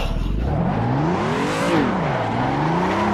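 Engine revving of a car drifting a donut in Assetto Corsa, a loud close engine note rising and falling in pitch as the throttle is worked, with a whirring tire edge.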